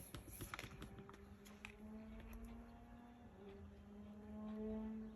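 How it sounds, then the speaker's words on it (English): A small, high-revving motorcycle passes somewhere outside, heard indoors as a faint, distant engine drone whose pitch holds steady and then shifts slightly as it goes by. "Oh my goodness, it's a motorcycle day. Sounds like a little pocket rocket."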